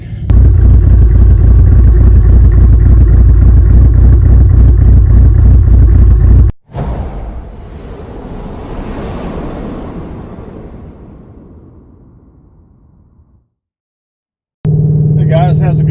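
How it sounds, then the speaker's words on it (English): A 2019 Mustang GT Premium fitted with an Edelbrock throttle body, engine roaring loud and close for several seconds, then cutting off and fading into a falling rumble before silence and a final blast of sound. "I'm in my 2019 Mustang GT Premium with the 2650 Edelbrock TBS"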